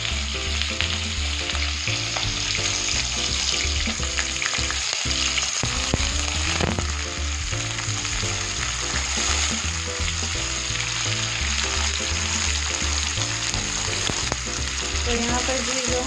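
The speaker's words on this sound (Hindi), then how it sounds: "तो यहाँ पर भी जो हमारा प्याज है वो फ्राई हो रहा है" Onion frying in hot cooking oil for a potato and pea pulao, a loud, dense, continuous sizzle that holds steady throughout, close up and with no one speaking.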